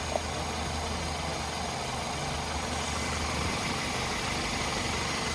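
A car engine left idling while the brake is held, a steady low rumble with faint vibration running evenly and unbroken throughout, no voices over it.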